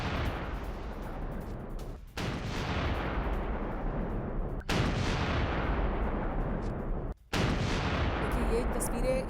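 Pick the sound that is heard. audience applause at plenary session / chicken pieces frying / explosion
explosion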